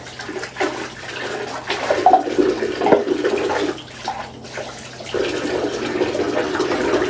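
Hot water runs steadily from a motel bathtub tap while dishes are washed beneath it, a continuous close splashing rush with small clinks and shifts in the flow.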